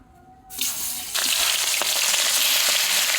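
Hilsa fish are dropped into hot mustard oil and start to fry, the faint background suddenly giving way to a loud, close, steady sizzle that grows stronger about a second later and keeps crackling with no talk.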